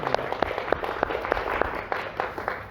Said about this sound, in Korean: 우리 모두 하나님께 영광의 박수 올려드립니다